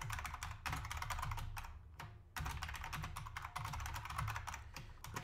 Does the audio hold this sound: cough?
no